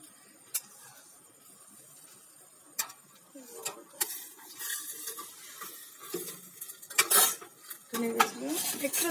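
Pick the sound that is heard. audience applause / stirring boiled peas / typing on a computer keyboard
stirring boiled peas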